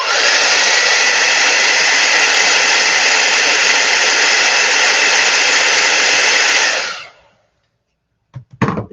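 A hair dryer blows on wet acrylic paint, a loud, steady broadband whoosh with an even motor whine that runs for about seven seconds, then cuts off and winds down, followed by a couple of brief knocks.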